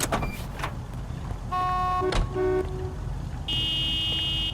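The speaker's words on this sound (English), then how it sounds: "Yeah, honk your horn, that'll sort this problem out." Car horns honk in the LA Noire video game amid street traffic, several flat tonal blasts of varying pitch sounding in short bursts and then a longer held blare, with no speech.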